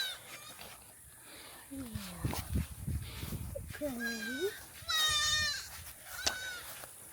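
Goats on a farm bleat in a few wavering calls, some low and one loud and quavering, over faint background noise and people talking.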